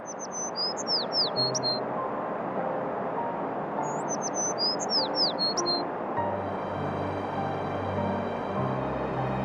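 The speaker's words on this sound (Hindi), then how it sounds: "अरे बेचारी चिड़िया।" A colorful bird in an animated folk tale gives two short, bright chirping phrases a few seconds apart over a soft background bed of music.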